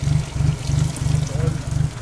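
Water trickling and sloshing into a vehicle during a river outing, over a rhythmic low pulsing rumble, with voices nearby.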